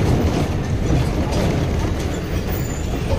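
A TSRTC express bus crossing a railway level crossing near Palakollu makes a loud continuous rumble of engine and road noise with rattling, heard from inside the cabin with no clear talk.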